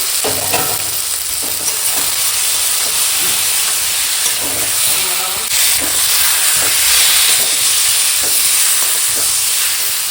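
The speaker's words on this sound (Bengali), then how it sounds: "এখন দিয়ে দেবো এই যে সিদ্ধ করা ছাড়ানো আলু" Boiled peeled new potatoes go into a sizzling tomato and spice masala, giving a loud, steady hiss of frying close up with intermittent stirring scrapes, heard alone.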